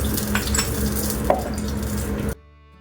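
A steady hiss of spices sizzling in hot oil, with a faint clink of utensils, then it cuts to quiet.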